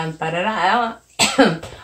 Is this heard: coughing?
yes